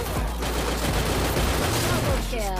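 Rapid gunfire in the mobile battle royale game Free Fire, a dense, loud burst of automatic shots that runs almost the whole time, with someone talking excitedly over it.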